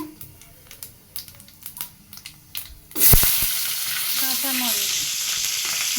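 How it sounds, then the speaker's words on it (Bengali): Nigella seeds dropped into hot oil for a bottle gourd greens dish burst into a loud, steady sizzle and crackle after a few soft clinks and taps. "তেল বসেছি তেল গরম হয়ে গেছে এর ভিতরে কালো জিরে"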